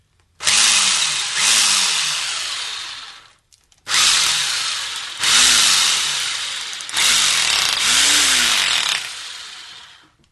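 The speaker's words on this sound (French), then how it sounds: "Pour faire ma saignée dans le plâtre" Power tool cutting a wire channel into a plaster wall, loud and close, running in three long grinding passes with a brief stop between each, shifting pitch as it bites into the plaster.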